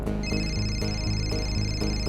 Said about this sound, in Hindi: घंटी की आवाज शायद ऊपर से आ रही है।